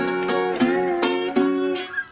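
Delta-style country blues guitar phrase with sliding notes rising toward the instrumental break, several picked chords and bends ringing out at close range with no voices.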